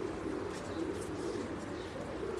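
Pigeons on a rooftop cooing in soft, repeated low murmurs, close and continuous over a faint background hiss.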